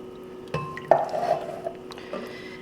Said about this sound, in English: I'm going to add in my can of diced tomatoes with the juice and all